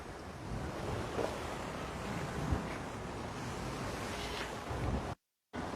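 Ocean waves at Diamond Head, Hawaii, a steady broad wash of rough, active surf mixed with wind buffeting the microphone, continuous and fairly loud with a brief dropout near the end.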